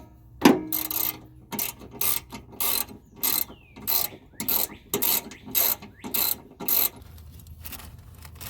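A ratchet wrench turns a 10 mm socket on a 2001 Dodge Ram 1500 Magnum during radiator work, giving about ten separate close clicking bursts in a fairly even rhythm, with no voices.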